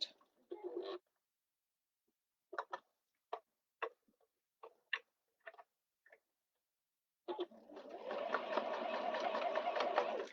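A sewing machine starts and stops in short bursts of stitching with quiet gaps, then runs continuously and steadily for the final few seconds, close and fairly quiet.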